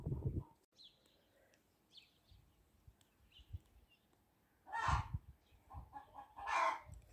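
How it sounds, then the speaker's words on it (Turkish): A hen clucks and squawks loudly in bursts after laying an egg on a rural farm, with quieter clucks between the louder calls and no speech. "Tavuk yumurtladı."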